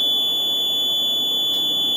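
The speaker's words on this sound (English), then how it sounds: "Milwaukee Fire unable to silence the alarm, saying only building management can reset alarm systems due to liability." A building fire alarm in a Milwaukee apartment building blares continuously with a steady, piercing electronic tone, loud and unbroken throughout, with no voices.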